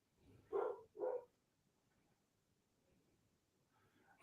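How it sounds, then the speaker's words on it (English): A pet dog barks twice in quick succession somewhere upstairs in a house, the two sharp barks fairly faint and distant, followed by quiet room tone. "you guys hear my dog going crazy up there?"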